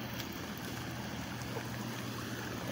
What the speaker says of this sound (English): All that water going down into the swamp.